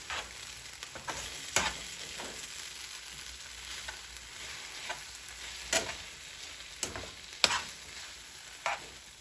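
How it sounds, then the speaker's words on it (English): Ramen noodles stirred in oil in a pan, a low steady sizzle broken by scraping and clacking utensil strokes at irregular intervals, close by. "Add some oil and mix it up in the oil."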